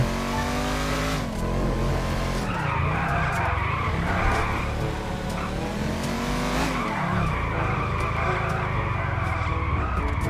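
A car drifts in the GTA video game, with a loud, sustained tire skid and squeal over a revving engine that shifts pitch as the slide continues, heard close and with no talk.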